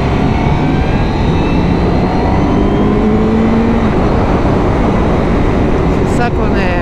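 A new motorcycle engine drones loud and close as it accelerates, a rising steady roar with gear-like tonal sweeps, its sound dominating throughout.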